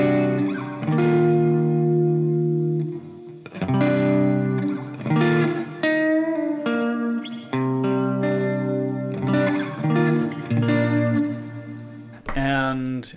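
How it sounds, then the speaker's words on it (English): Electric guitar playing chords and melodic lines bathed in reverb, with sustained ringing notes and a brighter burst near the end. "I'd like to have my guitar being dry for just a few milliseconds before it goes into the reverb."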